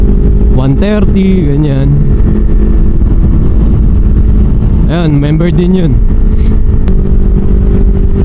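A CFMOTO 700CL-X Sport motorcycle engine drones steadily while riding, with constant wind rush throughout and a rider talking over it at intervals.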